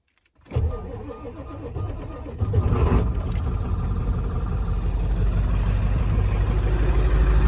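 A 1996 Ford F-350 Powerstroke diesel cranks over and fires up after a short silence, settling into a loud, steady idle up close with a rough, clattering rumble, no talk over it.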